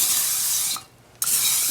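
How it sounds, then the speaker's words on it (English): Cooking spray hissing onto a long cookie sheet for a homemade Texas sheet cake, a loud close spray in two bursts with a short pause between them. "I'm going to just spray it with cooking spray."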